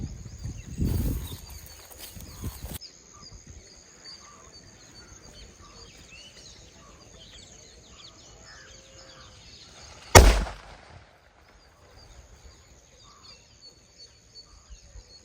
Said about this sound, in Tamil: ட்ரம்மிலே ரெண்டாவது வெடி